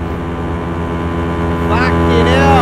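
A loud, buzzing motorcycle engine whine in a video game rises in pitch as the bike speeds past close by, with a brief voice near the end.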